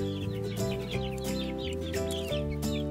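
Young chickens moving to a new coop, clucking and murmuring steadily nearby with overlapping calls in a continuous, busy flock chatter.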